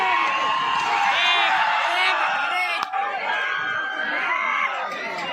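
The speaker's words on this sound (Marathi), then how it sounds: "प्रेक्षकांचा जल्लोष बघा" A large crowd of spectators at a race cheers and whoops continuously at a distance, with shrill shouts rising above the roar and one sharp crack midway.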